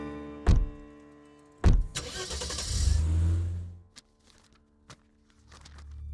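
Car doors thud shut twice as people climb in, then the engine cranks and starts with a rising whine and settles to a low idle, followed by a few faint clicks and a final engine swell.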